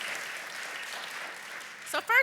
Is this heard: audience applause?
yes